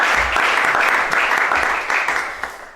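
A church congregation claps and cheers loudly and continuously, a dense wash of applause swelling throughout before easing slightly toward the end.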